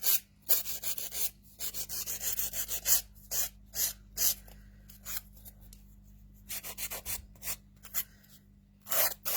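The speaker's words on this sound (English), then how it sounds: "this one needed a bit more filing because just used a chunkier glitter mix" Quick, repeated raspy strokes of a nail file on a chunky glitter nail finish, close and fairly quiet, coming in short rhythmic bursts with brief gaps between them.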